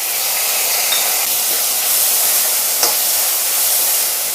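Chopped tomato sizzles steadily in a hot pan while cooking down for a pepper chutney, a close, even hiss of frying with occasional faint stirring, and no talking.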